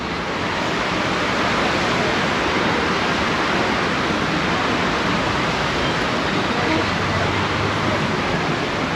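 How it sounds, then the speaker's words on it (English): Steady loud rush of water running down cliffs like a waterfall at Disneyland Paris, a continuous broadband roar that fills the scene without a break, no voices over it. "just look at those cliffs and the water running down"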